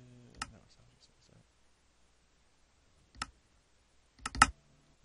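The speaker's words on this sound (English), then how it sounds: "I'm talking about this clicking, by the way." Intermittent clicking noise caught in a home recording setup: a few sharp, close clicks spaced irregularly, with one small cluster near the end, separated by near-silent gaps.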